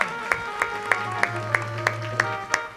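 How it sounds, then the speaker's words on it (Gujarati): Rhythmic group clapping at a village Bhagavat Saptah religious gathering during a Rukmini wedding episode, evenly spaced claps keeping time over a sustained droning musical tone, moderately near and steady. "બસ એમ તાળી તો પાડો."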